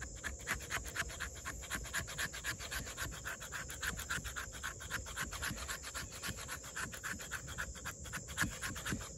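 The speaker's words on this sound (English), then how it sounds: "if we need to scrape some fat wood" A steel knife blade (Extrema Ratio Tuscan, Böhler N690 steel) scraping fatwood, giving a steady rhythm of close, rasping strokes repeated for several seconds, with no talking.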